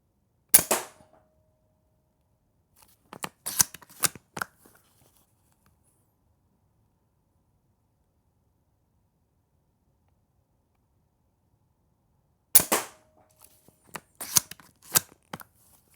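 Novritsch SSG11 airsoft sniper rifle fired at a target about 15 meters away, sharp close snapping shots in two groups, each a loud crack followed by a few quicker clicks and rattles of the bolt, separated by long silence.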